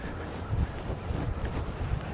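Wind buffets a microphone outdoors in a low, steady rumble with a few stronger gusts; no voices.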